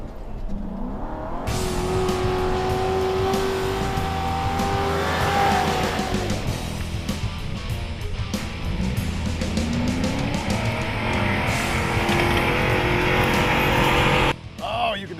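Ford Crown Vic or Chevy Caprice racing off-road in a dirt contest, the engine revving hard and rising in pitch with tire squeal and skidding, loud and continuous throughout.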